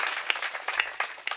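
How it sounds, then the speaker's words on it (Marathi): An audience at a kirtan gathering claps in a short, moderate burst of scattered hand claps, with irregular sharp peaks and no talk over it. "एकदा माऊलींकरता जोरदार टाळी वाजवूयात."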